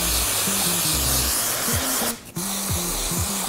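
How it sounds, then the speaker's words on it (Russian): Continuous hiss of a blonde hair spray aerosol misted onto hair, close and steady with a brief pause partway through, alongside a low rhythmic tone. "я решила использовать вот такой вот спрей, блонд, нанести его на волосы"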